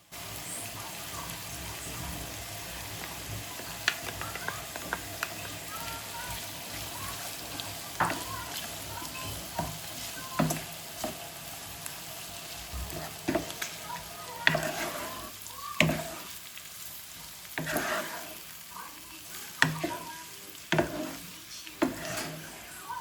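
Steady quiet sizzling of peppers and tomatoes frying in a pan with spices, with occasional spoon scrapes and soft clicks over a constant hiss.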